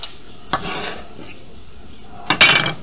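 A utensil mixes lobster pieces into a lemony salad in a bowl, giving two short bursts of scraping and clinking with a quiet pause between them.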